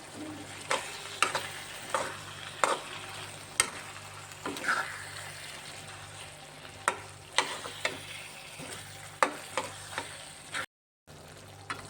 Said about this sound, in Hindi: तो अभी थोड़ा सा भून लेंगे, भूनने के बाद तो हो जाएगा रेसिपी।